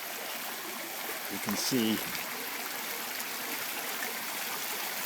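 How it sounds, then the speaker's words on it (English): A remodeled waterfall and stream in Kihei, Hawaii, give off a steady, close rushing wash of falling water, with someone briefly talking over it. "This is a waterfall that's been renovated to turn differently."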